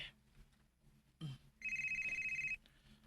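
A mobile phone ringtone rings loudly and steadily for about a second in a boarding house, after a brief thump and quiet room noise, with no one speaking.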